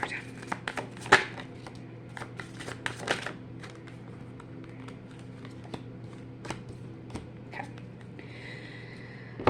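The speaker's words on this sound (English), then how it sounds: "I need to shuffle one more time." Tarot cards being shuffled by hand during a reading, soft riffling and flicking bursts up close, brief and quiet, with a low steady background hum.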